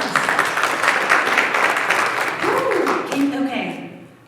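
Audience applause at a women's leadership conference, dense clapping with some voices mixed in, fading toward the end.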